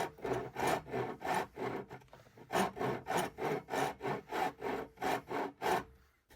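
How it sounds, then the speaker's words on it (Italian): A Parkside half-round rasp files wood in steady back-and-forth strokes, about a dozen rhythmic rasping passes, close and fairly loud, with a brief pause partway through and no talking. "Con una raspa invece semitonda, questa zona andrebbe a limare l'angolo."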